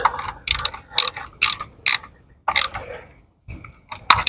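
Ratchet wrench clicking as the thermostat housing is tightened on a Vauxhall Corsa D 1.2, a series of sharp ratcheting bursts close by with brief gaps between strokes.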